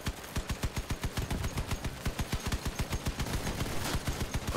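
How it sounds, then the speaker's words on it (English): Rapid automatic gunfire from several enemies in the vehicle combat game Crossout rattles in a fast, even stream of shots, loud and continuous with no talking over it. "multiple enemies shooting at me"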